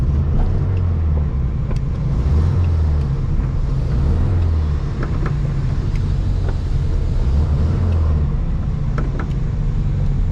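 An old Volkswagen Beetle engine running rough close by, its carburetor kicking and jumping, rumbling steadily with an uneven, pulsing throb throughout.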